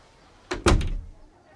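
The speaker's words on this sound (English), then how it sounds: "the woman closed the door." A door swings shut with a single solid thud and a short rattle, close by and alone in a quiet room.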